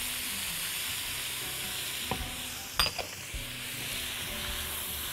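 Meat with onion, garlic and spices fries in oil for an artichoke cumin stew, giving a steady close sizzle, with a few clinks and scrapes of a stirring utensil midway, and no voices.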